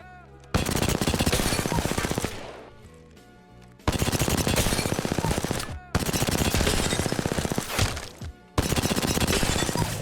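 The CAR SMG in Apex Legends fires long, rapid, loud automatic bursts in a firing range, four sustained volleys separated by brief pauses with reload clatter between them.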